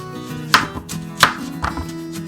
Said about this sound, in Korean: 무 자르는 건 정말 힘드네요.